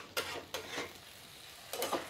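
Onions and chopped tomatoes being stirred in a pan while cooking a potato and soya chunk curry: a few soft scraping strokes of a spoon against the pan at a steady pace, close and fairly quiet, with a faint sizzle between strokes.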